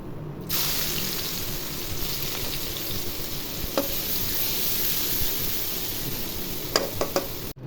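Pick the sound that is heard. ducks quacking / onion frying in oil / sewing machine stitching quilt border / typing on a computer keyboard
onion frying in oil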